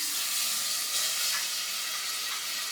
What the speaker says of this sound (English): If you do not hear that sizzle when you're putting your meat into your pot is not hot enough